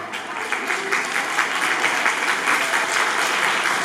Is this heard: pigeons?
no